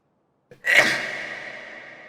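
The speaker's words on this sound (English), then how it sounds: "I'm going to sneeze." A single close sneeze from a man playing Factorio, with a short intake just before and a sharp burst that trails off, alone with no talk.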